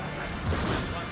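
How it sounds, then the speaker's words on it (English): A special weapon fires in a Gundam space-combat video game, a single loud, dense blast that fills the whole moment with no talk over it. "What if I just shoot Amuro with this special weapon?"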